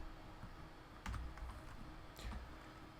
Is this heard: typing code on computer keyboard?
yes